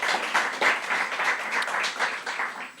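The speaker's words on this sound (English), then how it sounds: "Let's give them a round of applause as they make this space beautiful." A book-launch audience gives brief, steady applause from many hands, with no voices over it.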